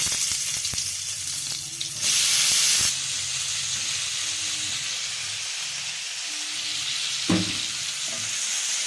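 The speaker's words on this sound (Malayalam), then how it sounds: "സവാളയും തക്കാളിയും എല്ലാം ഇട്ടൊന്ന് വഴറ്റി കൊടുക്കാം." Onions and tomatoes sautéing in hot oil for a noodle dish, a steady close sizzle and hiss with a brief louder burst and occasional stirring clinks, no talking.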